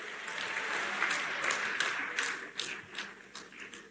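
Sustained applause from a crowd at a semiconductor plant event in Uttar Pradesh, India, welcoming the Prime Minister and Chief Minister; dense and steady clapping that thins slightly toward the end, with no voices over it.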